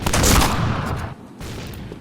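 Rapid gunfire bursts from the Point Blank shooter game, a dense rattling volley that drops off briefly then resumes, loud and close with no talk.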